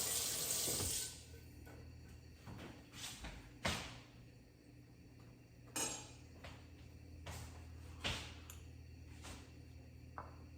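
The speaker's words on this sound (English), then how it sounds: "That tasting spoon, gotta give that a wash." A kitchen tap runs while a tasting spoon is rinsed after seasoning mushroom cappuccino soup, a steady close water rush with a few light clinks and knocks of metal against the sink.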